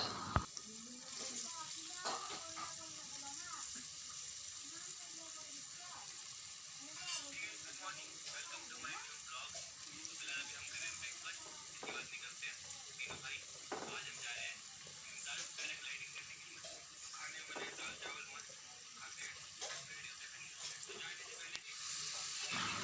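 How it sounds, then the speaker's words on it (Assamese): Mixed vegetables frying in ghee and mustard oil for Assamese kesari give a steady, moderate sizzle and hiss that runs throughout, with occasional sharp clinks and scrapes from stirring. "এতিয়া গোটাইবোৰ ভেজ ভালদৰে ভাজি ল'ব অলপ সময়ৰ বাবে।"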